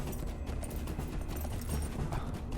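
A pony's hooves clip-clop at a steady trotting rhythm in Lord of the Rings Online, loud and close, with no talking over them.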